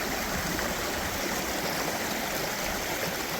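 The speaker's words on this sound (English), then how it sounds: "Beautiful waterfall." Water tumbling steadily over a waterfall on a creek, a continuous broadband rush that holds even and close throughout without any talk.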